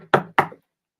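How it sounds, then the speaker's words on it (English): Two sharp knocks on a door in a told fairy tale scene, close and fairly loud, evenly spaced about a quarter second apart, followed by silence. "she heard a knock on the door"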